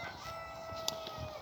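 A Jersey Giant chicken lets out a few brief, soft clucks against a faint background hiss.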